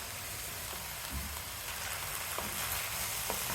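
Cooked moong dal tipped into a hot pan for a broccoli dal curry, giving a steady, close sizzle and frying hiss with a few soft stirring bumps, no voices.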